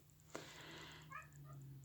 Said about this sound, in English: You're hearing my cat meow down here.